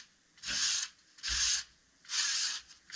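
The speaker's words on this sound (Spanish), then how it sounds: "con una lija número 220 suavizamos toda la superficie" Sandpaper of 220 grit rubs over a terrazzo sink mold in three steady, close strokes, each a broad, hissing scrape with short quiet gaps between, and no voices.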